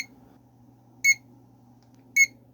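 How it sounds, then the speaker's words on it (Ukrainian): An electronic controller module, partly taped over to muffle it, gives two short, high, evenly spaced beeps about a second apart over a faint steady hum. "Трохи йому заклеїв, щоб він не так сильно пищав."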